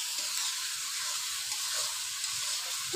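Fish goes into a spice paste fried until the oil separates, for a dish of shing fish with bean seeds, producing a continuous close sizzle with faint stirring and no talking.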